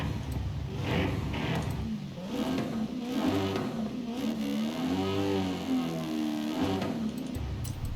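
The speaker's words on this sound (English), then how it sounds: "It's got like a really low burbly V8." An Aston Martin V8 in Forza Horizon 5 revs and drones with a low, burbly engine note, rising and falling in pitch over steady background noise throughout.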